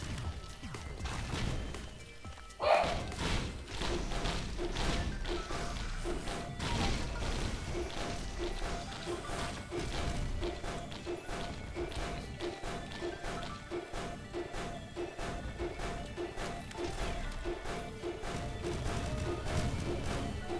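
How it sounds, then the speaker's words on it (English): Bomb explosions in the video game Risk of Rain, a sharp blast followed by a dense, continuous barrage of crashing booms and thuds, loud and busy throughout. "bombs everywhere!"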